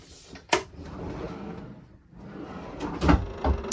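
A drawer in a cabin of a Fountaine Pajot Isla 40 catamaran being opened and shut, a sharp knock then soft sliding and a second bump, close and quiet against low room noise.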